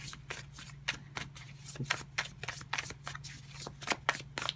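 A tarot deck is shuffled by hand, a rapid run of riffling card flutters in quick bursts, close and crisp over a faint steady hum, with no talk.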